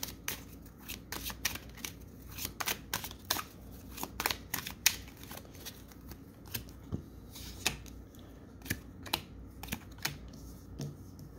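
A Gilded Reverie Lenormand card deck is shuffled up close, giving a run of crisp, rapid riffling bursts and sharp card snaps in an irregular rhythm, loud against a quiet room.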